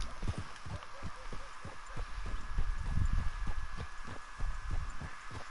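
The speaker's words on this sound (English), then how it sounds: "This white horse is the rarest horse in the game, okay?" Steady, rhythmic hoofbeats of a white horse in Red Dead Redemption 2 clop along at a walking pace, muffled and even, with a faint hum beneath.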